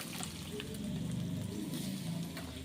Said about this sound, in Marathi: तर यामध्ये आता छान असा आपण तडका देऊन घेतो